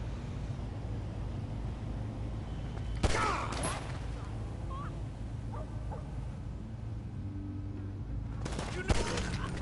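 Two sharp gunshot bursts in GTA 5 Online ring out over a steady low engine-like rumble, one near the start and one near the end, with faint speech in the background.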